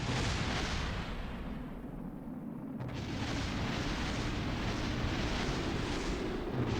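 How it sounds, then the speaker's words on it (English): Rumbling explosions and roaring fire fill a Kerbal Space Program mission as debris blows apart, a dense continuous roar with a brief lull in the middle, fairly loud throughout. "all that stuff is exploding"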